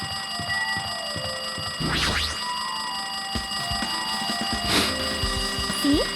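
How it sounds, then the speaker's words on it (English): A telephone rings in the video game Danganronpa 2, a steady electronic ringing tone that runs throughout, with a few quick swishing interface effects over it. "It looks like that phone is ringing."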